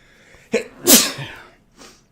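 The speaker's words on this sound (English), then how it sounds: "Violent sneeze, sorry." A single violent sneeze bursts out close by, with a sharp intake just before and a short trailing breath after, otherwise quiet.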